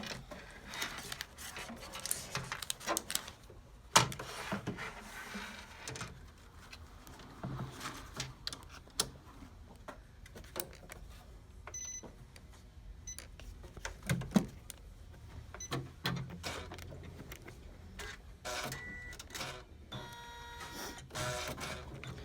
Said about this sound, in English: what the machine does is it lays down a placement stitch, then it lays down a tack down stitch